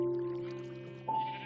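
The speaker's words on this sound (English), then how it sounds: "Well, you've been hearing them in just about every episode. Here's the sheep farm." Sheep bleating on a farm in a Minecraft-style video game, two short close bleats, the second rising in pitch, with faint background game sounds.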